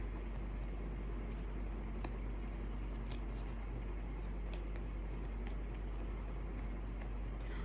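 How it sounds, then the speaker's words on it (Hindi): Tarot cards being arranged by hand, faint scattered rustles and soft taps of cards over a steady low hum and hiss, close but quiet, no talking. "let me just arrange the cards properly."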